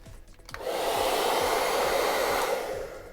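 Hair dryer blowing to dry paint on Boba Fett armor, switching on after a brief moment and then running as a loud, steady close whoosh.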